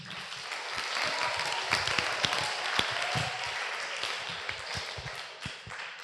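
Audience applause at an Islamic santri public discussion forum, a dense steady wash of many hands clapping for about six seconds, with sharp individual claps standing out and no talk.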